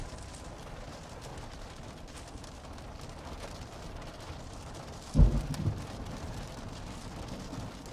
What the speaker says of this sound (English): Suddenly Thunder.